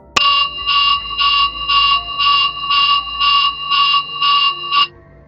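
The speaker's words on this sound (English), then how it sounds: "Her words were punctuated by the sound of alarms blaring" Alarm blaring in a sci-fi facility emergency, a loud electronic tone pulsing in about ten even bursts, starting with a sharp click and ending abruptly.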